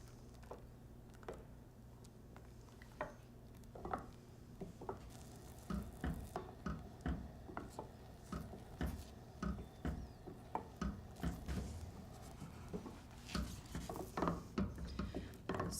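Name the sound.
stirring pastry cream in a pan with a wooden spoon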